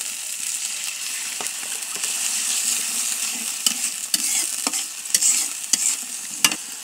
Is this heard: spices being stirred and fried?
yes